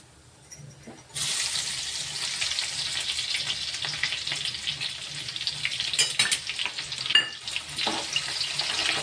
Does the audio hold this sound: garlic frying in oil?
yes